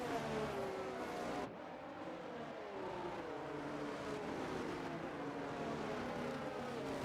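Race cars restart a race on lap 17 at Singapore in a racing video game, with several engines droning and revving together at a moderate distance in a steady, smooth stream of sound.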